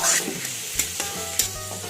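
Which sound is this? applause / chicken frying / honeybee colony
chicken frying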